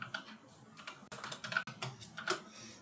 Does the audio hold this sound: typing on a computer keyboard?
yes